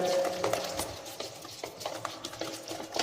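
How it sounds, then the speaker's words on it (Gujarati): Spices being stirred into gram flour batter for Gujarati fulvadi, with close, irregular scraping and mixing strokes in a bowl over a couple of seconds. "તો આ રીતે બધા જ મસાલાને મિક્સ કરી લેવાનો છે"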